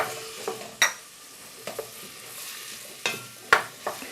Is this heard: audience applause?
no